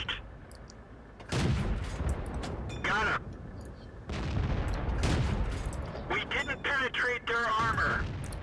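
Tank gunfire in World of Tanks, with several heavy cannon blasts and booming impacts over a continuous rumbling battle background, fairly loud, mixed with game voice lines.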